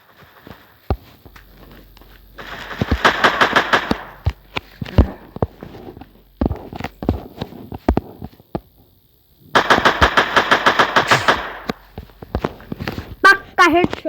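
Bursts of rapid automatic gunfire from a video game gun come in two long volleys with scattered single shots between, loud and close, while a player talks throughout.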